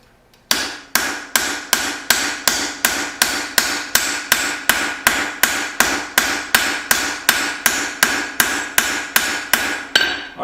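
Steady hammer blows forge and thin a Bowie knife blade below the ricasso, about twenty evenly spaced ringing strikes landing close and loud, roughly two per second, with no talk.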